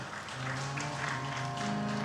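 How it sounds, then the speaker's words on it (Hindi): Audience applause at a Ram Katha religious discourse in Mumbai, a steady, dense wash of clapping that holds at an even level for about two seconds, with a sustained low tonal hum running underneath. "बिल्कुल ठीक से ताली बजाइए।"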